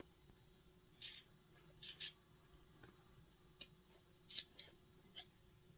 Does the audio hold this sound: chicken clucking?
no